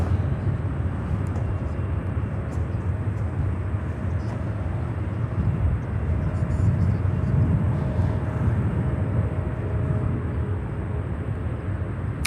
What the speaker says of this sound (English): Inbound will be the Aer Lingus 330-300 in new colors from Dublin in Ireland